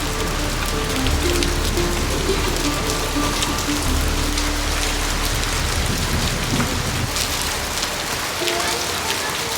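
Heavy monsoon rain pours down steadily in a hilly mountain setting, a dense, continuous hiss of drops on surfaces that holds loud and even for the whole stretch.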